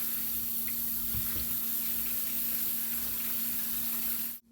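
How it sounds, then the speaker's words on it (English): Water runs steadily from a kitchen tap over apples being rinsed, a constant close hiss with a few faint knocks of fruit in the sink, ending abruptly. "Get them nice and rinsed."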